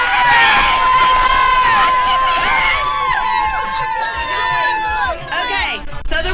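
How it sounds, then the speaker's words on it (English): An outdoor festival crowd cheers before a pizza eating contest, loud overlapping yells and shrill shouts from many voices, with children screaming and whistle-like calls rising and fading. "Y'all cheer for y'all's winner."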